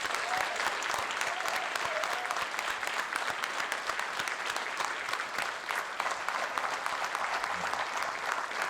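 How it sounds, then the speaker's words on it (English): A crowd at an awards ceremony claps continuously for the nominees and organizers, a steady, full wash of applause that holds at an even level throughout. "give your applause while I give my applause to the nominees and the"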